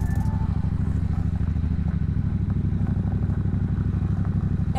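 Motorcycles riding past on a summer evening, a loud, steady engine drone with a rhythmic low pulse that holds throughout, heard up close without any talk.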